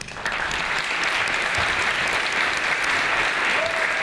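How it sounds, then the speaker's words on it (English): A conference audience applauds a conference organizer, a dense, even burst of many hands clapping that holds steady for several seconds in a large room. "He deserves a great applause."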